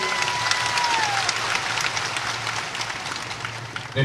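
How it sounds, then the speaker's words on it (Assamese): Audience applause for Assam chief minister Himanta Biswa Sharma at a public event in Tamulpur, a dense, steady wash of clapping from a crowd that holds evenly throughout with no speech over it. "আমি সকলোৱে এজাও হাত চাপৰি আহক কৃতজ্ঞতা জ্ঞাপন কৰোঁ সকলোৱে"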